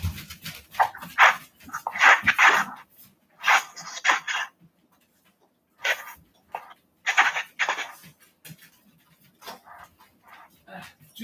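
Dogs being let in at a door make bursts of barking and whimpering, some near and some scattered, broken by short quiet gaps, with someone talking at times.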